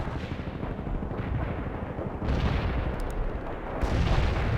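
Rolling artillery barrage in the World in Conflict real-time strategy game, a dense, continuous thunder of overlapping booms and blasts that swells louder toward the end, with no talk over it.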